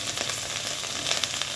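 Okra (bhindi) fries in hot oil with a steady, close sizzle and soft crackle, a continuous hiss with no voices.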